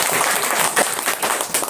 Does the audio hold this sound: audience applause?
yes